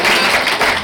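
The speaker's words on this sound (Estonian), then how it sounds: "Nii et teeme aplausi noortele ja..." Audience applause for young people dressed as Christmas elves from a youth centre, at a seniors' Christmas lunch in the Kehra community hall; dense, steady clapping fills the whole short moment.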